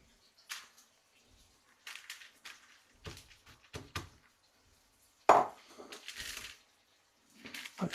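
Scattered knocks and clinks from the bottom of a bowl pressing a beef burger patty flat, quiet and close, separated by short pauses with one sharper clack partway through.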